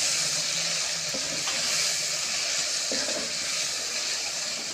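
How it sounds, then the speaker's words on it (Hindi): Tomato masala with crushed red chili, salt and garlic paste frying in a pan, a steady broad hiss of sizzling oil with a few soft scrapes from stirring, moderately loud and continuous with no talk. "पाँच मिनट तक उसको उसी हिसाब से भून लेना है।"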